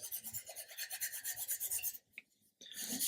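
Rhythmic rasping strokes of a flexible file sanding the plastic edge of an Airfix 1/72 Bristol Beaufort model kit, close and steady, with a brief pause and one faint tick before the strokes resume.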